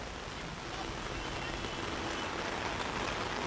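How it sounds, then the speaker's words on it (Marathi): Steady rain starting to fall over Kalyan Dombivli on a cloudy day, a dense, even hiss of drops that holds at constant loudness throughout with no voices. "आता पावसाला सुरुवात झालेली आहे"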